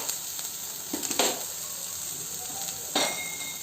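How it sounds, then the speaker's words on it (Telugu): Whole spices and masala frying in a pan until light brown for a protein-rich dish of rajma, peanuts and mixed beans, a steady close sizzle with a couple of brief louder stirring bursts. "లైట్ బ్రౌన్ కలర్ వచ్చే వరకు వేగించాము"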